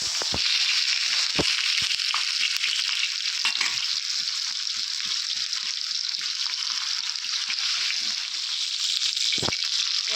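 Tomatoes fry on a large, slightly concave tawa for a sesame and radish chutney, a continuous bright sizzle broken by a few sharp pops and crackles, close and steady without speech.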